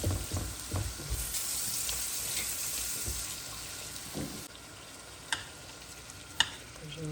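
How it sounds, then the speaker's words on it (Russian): Onions fry with tomato in a pan, a steady sizzle with some stirring and a few sharp clinks near the end. "Лук жарится, томат готов."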